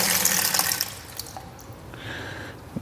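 Water from a garden hose spraying steadily during a car wash and decontamination on a Porsche GT3 RS, a broadband rush that loudens early and then eases to a lighter trickle near the end.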